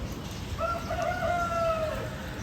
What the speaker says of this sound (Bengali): এই যে মোরগটার আওয়াজ পাওয়া যাচ্ছে